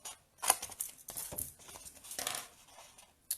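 Scissors snipping along machine-scored lines in card for a window box gift, a few quick crisp cuts and rustles close by, with no talking.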